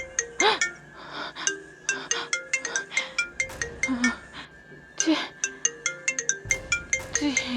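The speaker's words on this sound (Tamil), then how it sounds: "திடீர்னு பார்த்தா ரிங்டோன் சவுண்ட் கேட்குது" A phone ringtone plays a bright, repeating chiming melody of quick tinkling notes, while a voice talks over and between the tones.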